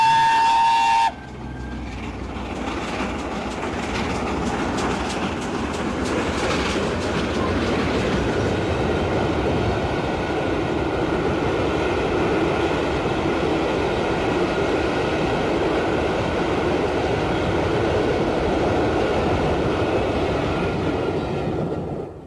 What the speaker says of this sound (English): And here we see Mallard leaving York